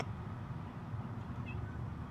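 A mother cat with kittens meows faintly in a front-yard garden, a soft brief call set against steady outdoor background noise.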